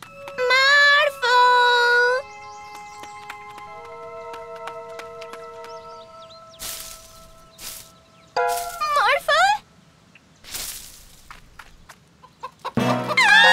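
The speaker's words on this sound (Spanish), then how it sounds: "¡Hola, gallina!" A cartoon chicken clucks in loud, close bursts separated by short silences, with cartoon sound effects and speaking voices between them.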